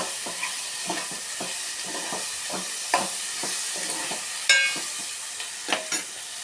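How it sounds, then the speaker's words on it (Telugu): Tomatoes fry and sizzle in a pan of curry while a spoon stirs them in repeated scraping strokes, with an occasional sharper clink over a steady hiss. "టమాటాలు వేసుకున్న తర్వాత కలుపుకుందాం."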